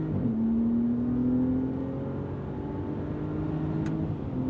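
A 2025 RAM RHO pickup's turbocharged engine holds a steady droning pull under acceleration around 3,500 RPM, a sustained rising tone with road and wind noise inside the cab.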